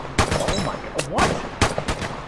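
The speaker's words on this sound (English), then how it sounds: "One SK shot got me to like 3/4 of health" Gunshots from an SKS rifle in the video game Vigor: a handful of sharp, loud cracks at irregular intervals, each with a short ringing tail, over faint background game noise.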